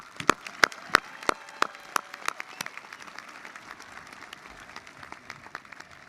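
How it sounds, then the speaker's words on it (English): Applause at a high school commencement ceremony for the senior choir, opening with a few sharp, distinct claps before settling into a steady, moderately faint patter of clapping across a large hall. "Let's give them another round of applause."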